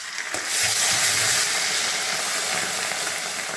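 Cumin, asafoetida and ginger-garlic paste sizzle in hot oil in a pan for street-style pav bhaji, a loud, steady crackling hiss that carries on alone after a brief softer start.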